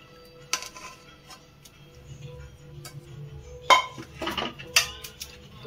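Mango panna being pushed through a sieve with a spoon, giving scattered clinks and taps of metal against metal and glass, close and fairly quiet, with a couple of sharper knocks.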